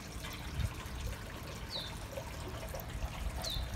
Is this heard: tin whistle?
no